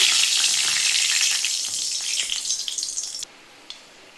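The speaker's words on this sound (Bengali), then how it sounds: "আমি কড়াই সামান্য সাদা তেল দিয়ে দিয়েছি তেলটা আমার গরম হয়ে গেছে আমি তেলের মধ্যে কটা এলাচ ফাটিয়ে" Cardamom pods crackle in hot white oil in a wok, giving a loud, bright sizzle with sharp pops that settles, then drops abruptly to a faint hiss with one last crackle.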